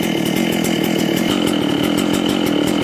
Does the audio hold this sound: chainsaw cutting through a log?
yes